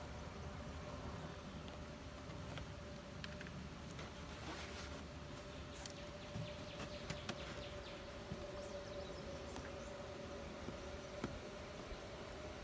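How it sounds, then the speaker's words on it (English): Honey bees from a newly installed package buzz inside a hive as a steady, faint, even drone, with occasional small clicks and handling noises. "See all those bees in there? They're drinking it."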